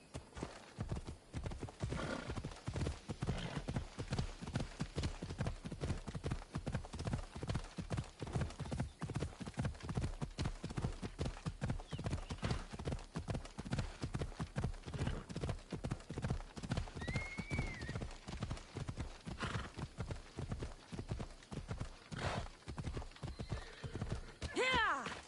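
Phobos the horse gallops in Assassin's Creed Odyssey: a dense, steady run of hoof clip-clops lasting throughout, with a few whinnies over it and game music and voices faintly underneath.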